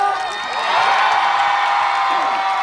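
An audience in Ulsan cheers and shouts in a loud, steady roar with high whoops throughout, and a little clapping mixed in.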